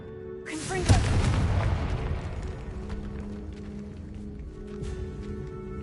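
A Confringo blasting spell explodes in Hogwarts Legacy, one sharp boom followed by a rumbling decay that fades over several seconds beneath ambient game music.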